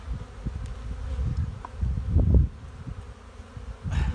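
A dense, low buzzing of many honeybees swells and fades close to the microphone during an early spring hive inspection, with no talking.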